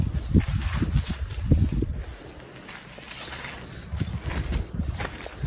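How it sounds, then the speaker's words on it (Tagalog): Gusty wind on a farm in Japan rumbles against the microphone in uneven bursts, easing briefly in the middle before picking up again. "Sabi kayong hangin diri guys."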